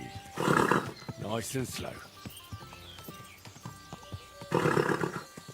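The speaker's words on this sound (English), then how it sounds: "Watch out with that horse!" A horse in the video game Kingdom Come: Deliverance 2 lets out two loud whinnies with clopping hooves between them, while someone talks over the animal sounds.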